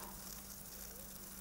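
Ham fat sizzles and melts in a very hot frying pan, a soft steady crackling hiss that fills the whole moment without any talk.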